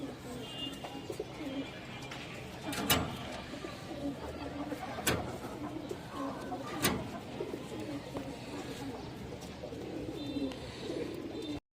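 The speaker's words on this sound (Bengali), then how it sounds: "এখানে একটা সবজি মাকড়া মুসলদম মাদি কবুতর আছে, বড় সাইজের।" Domestic pigeons, including a large Sobji Makra Musoldom hen, coo softly in a loft amid steady background noise, with a few sharp clicks standing out over the low murmur.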